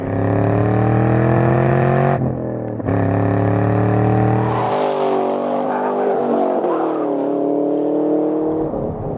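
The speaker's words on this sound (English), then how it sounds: "give you the full raspy V8 growl that you want" A 2013 Chevrolet Camaro SS 1LE's V8 engine gives a loud, continuous raspy growl, rising and shifting in pitch as it revs and accelerates.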